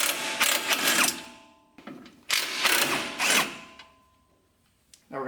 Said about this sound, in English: Next, we're going to take these two bolts off here onto the lower control arm.